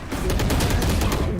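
A rapid burst of gunfire from Neon in Valorant, about eight sharp, evenly spaced shots rattling off loud and close over a short span.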